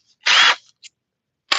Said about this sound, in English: We're drilling holes.